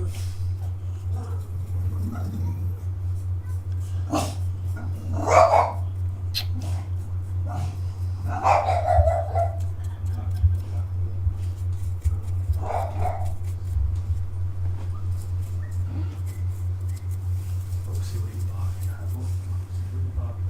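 A dog gives a few short barks and whines, spaced several seconds apart over a steady low hum, while people talk nearby.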